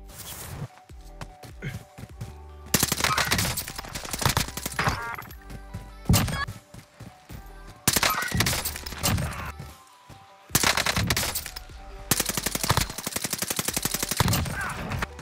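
Type 100 submachine gun fire in Warzone, with several sustained automatic bursts separated by short pauses, loud and close amid game effects.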